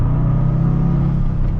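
A 2025 Toyota GR Corolla Premium hot hatchback with a manual gearbox holds a steady engine drone and road rumble from inside the cabin, a continuous low hum without a clear rev change.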